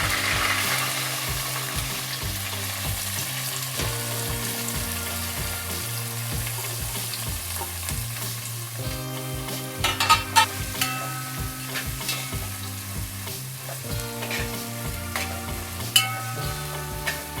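Onions fry in a pan with cumin, mustard seeds and curry leaves while cooking onion rice, a steady sizzle broken by the scrape and clink of stirring, close and continuous without talk.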